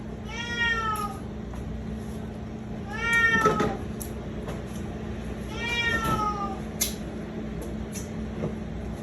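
A cat meows three times at spaced intervals, drawn-out and vocal, over a steady low hum in the room.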